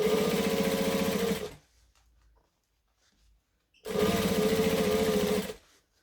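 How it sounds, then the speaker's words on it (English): Sewing machine stitching binding along the edge of a lunging pad: two loud, steady bursts of rapid mechanical whirring, each lasting about a second and a half, separated by a quiet pause, with no talking. "I'm stitching pretty close to the edge of the binding."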